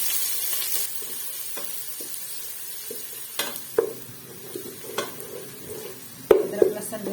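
Onions sizzle in hot oil while a spoon scrapes and stirs them around the pan, giving irregular clinks and scrapes over a steady frying hiss, close up with no talking.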